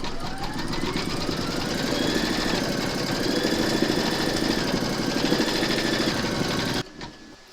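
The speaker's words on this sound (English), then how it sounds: "Pop your hoop into your machine and stitch round number 3 to secure them." A home embroidery machine stitches a maple leaf applique in the hoop, its needle chattering in a steady, close, continuous mechanical rhythm before it stops abruptly near the end.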